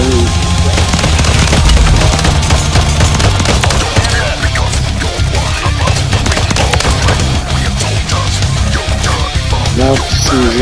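A heavy machine gun fires in long, loud, rapid bursts in the Warzone 3 video game, with dense gunfire and explosions filling the scene and a voice briefly heard underneath.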